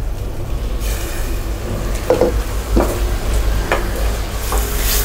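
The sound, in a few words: sautéing biryani masala in a pan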